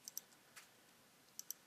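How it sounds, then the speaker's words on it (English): Faint key presses on a computer keyboard, with the control key held, come as a few quick soft clicks in two small clusters in a quiet room. "I'm using the control key on my keyboard"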